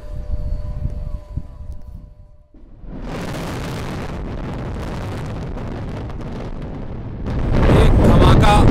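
Demolition blast bringing down the 29- and 33-floor Noida twin towers: a low ambient rumble gives way to a sudden, loud, sustained roar of collapse that grows heavier near the end, heard from a distance.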